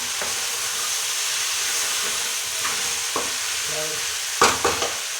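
Vegetable tikkis fry in a pan with a constant loud sizzle and hiss, broken by a few stirring clinks and scrapes toward the end.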